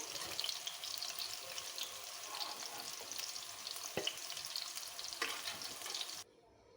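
Bitter gourds fry in oil in a kadai with a steady, close crackling sizzle punctuated by a few stirring clinks, cutting off abruptly just before the end.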